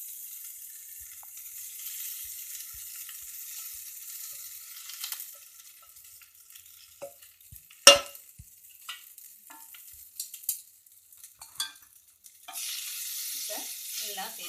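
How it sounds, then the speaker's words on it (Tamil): Soaked flattened rice (aval) with tamarind is mixed into a pan over a low flame for upma, giving a faint, soft sizzle with sparse scraping and a few sharper spoon clinks against the pan. "எல்லாம் சேர்த்து கலக்கிறோம்."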